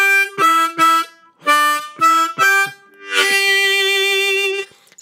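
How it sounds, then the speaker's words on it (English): A blues harmonica plays a punchy major pentatonic ending lick in octaves, 3 and 6 blow then 2 and 5 blow, each hit twice. Short, clipped, close chords lead into one long, loud held note, with nothing else underneath. "the next end lick is a major pentatonic one, again using these octaves."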